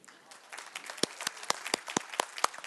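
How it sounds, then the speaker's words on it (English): An audience at a summit keynote claps, starting softly and building into distinct, fairly sharp claps in an irregular rhythm, moderately close. "I want you to clap now"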